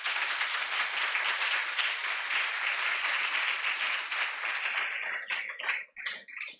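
An audience applauding itself at an address by a university director general, dense sustained clapping that thins into scattered last claps near the end.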